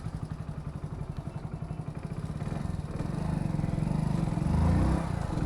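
Bike taxi motorcycle riding through light traffic at Hitech City in Hyderabad, its engine putting along in a steady rapid pulse that thickens into a louder, rougher drone with road noise as it speeds up.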